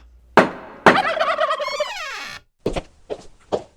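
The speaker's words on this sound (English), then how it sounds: "Giles and Bobo, turkeys at law." Turkeys gobbling in loud, warbling bursts, one long rolling gobble followed by several shorter calls, close and clear with no talk over them.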